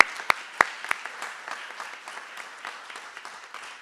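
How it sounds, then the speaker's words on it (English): A small crowd at an awards ceremony gives a round of applause for the winners, with a few sharp loud claps at the start, then thinner scattered clapping fading away. "Let's give them one round of applause."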